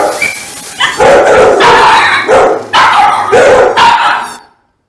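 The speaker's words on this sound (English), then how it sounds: "The dogs." Dogs bark in a close, loud run of four or five sharp woofs and yips, each burst rough and overlapping, ending abruptly in silence.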